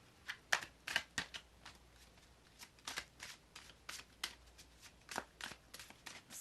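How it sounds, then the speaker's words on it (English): Tarot cards are shuffled by hand in soft, crisp bursts of riffling and sliding, quiet and close, with brief pauses between passes. "I'm shuffling the tarot cards here."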